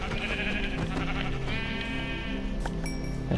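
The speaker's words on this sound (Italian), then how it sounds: "Le pecore, grandi le pecore." Sheep bleating in Minecraft, several wavering bleats overlapping in quick succession, fairly close and clear with no talk.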